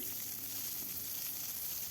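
Onion and green chilli frying in oil left from frying fish, a steady close sizzle with soft crackling and no talk.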